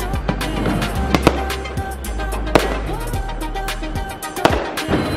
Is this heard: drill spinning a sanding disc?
no